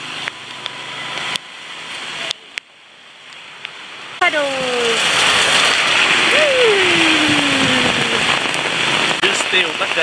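Heavy rain starts falling in Hue, Vietnam, a dense, loud, steady hiss of drops that begins a few seconds in after quieter clicks and continues while a person talks with a rising and falling voice.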